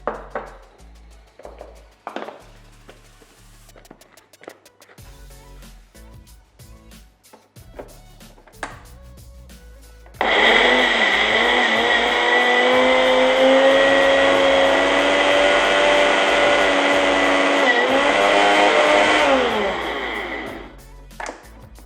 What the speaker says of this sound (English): Add 50 grams of coconut oil and blitz it one more time until you have like a thick paste.